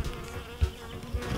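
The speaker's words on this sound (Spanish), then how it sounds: "Ay, ahí hay una abeja." A bee buzzes close by among white flowers outdoors, a continuous fairly faint drone with two brief louder swells as it passes near.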